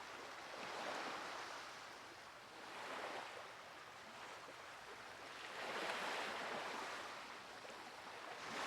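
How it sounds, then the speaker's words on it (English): Ocean waves wash in and out in an ambient game scene from Nancy Drew: Danger on Deception Island, steady broadband surf swelling in several slow surges, with no talking. "Oh, yeah, the ocean sounds."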